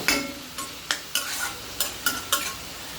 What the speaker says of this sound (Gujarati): ટામેટું નાખ્યા બાદ આપણે એને સારી રીતે મિક્સ કરીને ટામેટું સોફ્ટ થાય ત્યાં સુધી